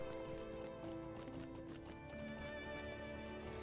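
A horse in Lord of the Rings Online trots with a steady clip-clop of hooves over a continuous tonal bed resembling game music.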